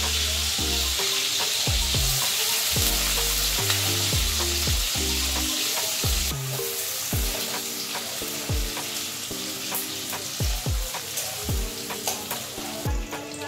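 Onion and whole garlic cloves frying in a pan, a loud, dense sizzle close by, overlaid with a repeating tonal pattern of background music.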